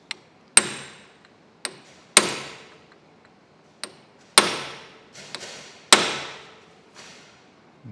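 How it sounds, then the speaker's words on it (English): Hammer blows on a steel punch driving a pin into a Monarch 612 lathe part: about eight sharp metallic strikes at uneven intervals, each ringing briefly, loud and close with no talk. "I'll take a punch here and a hammer, and we'll just drive that home."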